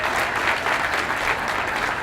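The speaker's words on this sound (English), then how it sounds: "big round of applause" A school civics bee audience in Buena Vista, Colorado gives sustained, dense applause, a steady wash of clapping from a crowd with no talking over it.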